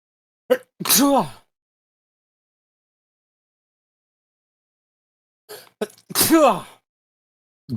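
Two loud, close sneezes about five seconds apart, each preceded by a short sharp intake of breath, with silence between them.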